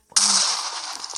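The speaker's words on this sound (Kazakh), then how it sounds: "Жарылды." A Minecraft explosion goes off as a single sudden loud blast, then a rumbling roar that fades slowly over about a second, with no voices.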